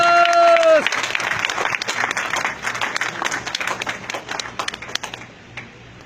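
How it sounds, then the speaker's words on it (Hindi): Crowd applause at a celebration event rises just as an announcer's amplified voice finishes, a dense clapping that continues steadily and thins slightly toward the end. "आपकी जबरदस्त तालियों के बीच में।"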